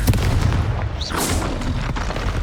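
A loud Confringo curse blast in Hogwarts Legacy, a sharp booming explosion followed by a spell whoosh and another burst amid dense battle noise.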